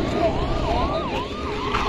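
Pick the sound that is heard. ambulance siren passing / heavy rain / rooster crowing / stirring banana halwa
ambulance siren passing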